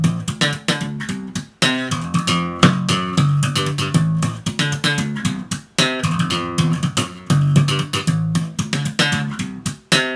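A bass guitar played through a Markbass amplifier plays a punchy, rhythmic line of plucked low notes, deep and full, with brief pauses between phrases and no other instruments.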